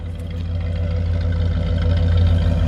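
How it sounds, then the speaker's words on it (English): A 1974 Ford F100 pickup truck idles with a steady, low exhaust rumble, loud and close, holding an even throb throughout with no other sounds on top. "Great little exhaust sound"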